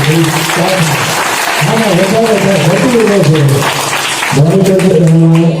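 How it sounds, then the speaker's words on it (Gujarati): Audience clapping at a school farewell ceremony for Standard 8 students, a steady wash of hand claps running the whole time beneath a loud voice talking over it. "બરોબર પાડો તાળી"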